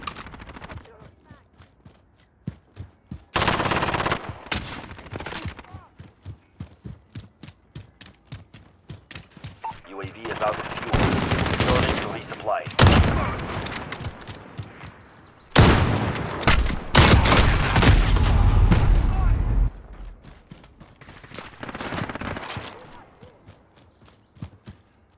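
Bursts of machine gun and rifle fire from a military shooter game, coming in loud dense volleys between quieter stretches, with radio-style voices talking at intervals.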